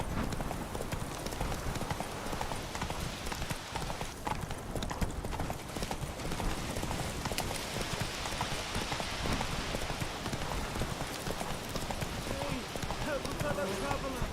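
Horse hooves clip-clop at a steady gallop in The Witcher 3 video game, a continuous rhythmic pounding throughout, with game voices talking over it.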